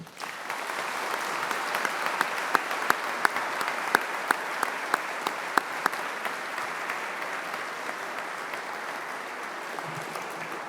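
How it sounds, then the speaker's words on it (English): An audience at a Greenwich university graduation ceremony claps steadily in a large hall, a loud, even wash of applause lasting the whole stretch, with a few sharper claps standing out and no talk. "So let's have a round of applause for all of those successes."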